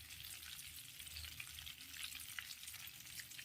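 Butter, about 50 grams, heating in a kadai on a stove, giving a soft, steady low sizzle with no other sounds.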